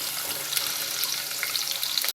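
Garlic frying in hot oil, a close, steady crackling sizzle that cuts off abruptly near the end, with no voices.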